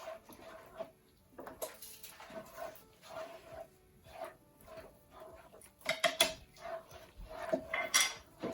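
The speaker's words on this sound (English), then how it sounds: "Now we're gonna add the cardamom and cashews." Metal spoon scrapes and clinks against a pan as roasted cardamom and cashews are stirred into thick carrot halwa, in irregular close taps and scrapes with quiet gaps between.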